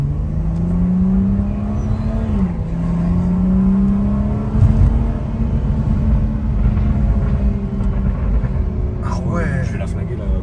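A BMW M135i Swiss Edition's engine and exhaust drone steadily from inside the moving car, with a dip and recovery in revs partway through and a low rumble under someone talking.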